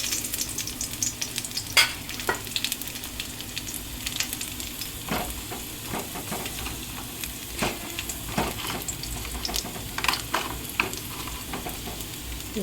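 Crushed garlic hits hot oil with dried red chillies for a tempering in a pan, giving a continuous close sizzle broken by frequent sharp spatters and stirring scrapes.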